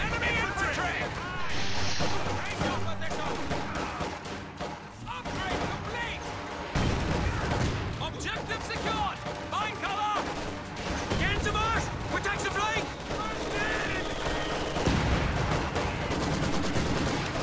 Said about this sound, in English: Lots of grenades getting thrown,